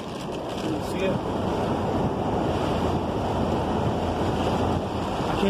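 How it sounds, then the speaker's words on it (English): Loud, steady rush of water spraying and churning beneath a moving car driving through about a foot and a half of storm floodwater on a road in San Antonio, a continuous splashing roar lasting several seconds without a break. "I just went through a foot and a half of water."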